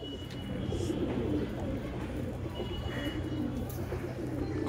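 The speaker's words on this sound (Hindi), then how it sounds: "देखें कबूतर" Soft, low pigeon cooing repeats steadily amid a busy, murmuring background, fairly close but not loud.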